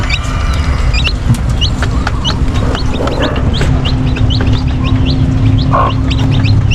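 Brahma and Rhode Island mixed-breed chickens cluck and chirp in short scattered calls over a loud, steady background hum, with small birds tweeting now and then.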